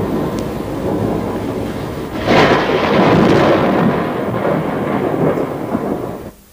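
Thunder from spectacular lightning strikes rolls out as a loud, sustained rumble that swells after a quieter start and then fades away, with no voices over it.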